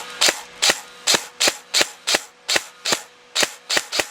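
A Tokyo Marui M4 airsoft rifle firing from a twin drum hi-cap magazine: eleven crisp, evenly paced semi-automatic shots, close and loud, each a sharp snap with a brief tail.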